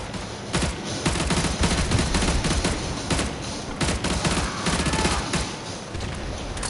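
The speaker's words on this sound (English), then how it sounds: "who's shooting at me?" Dense gunfire rattles continuously in Call of Duty Modern Warfare 2 Remastered, rapid automatic bursts and sharp shots layered loud and close with no pauses and no talking.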